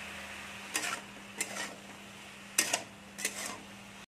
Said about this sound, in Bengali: দিয়ে ভালো করে নাড়বো।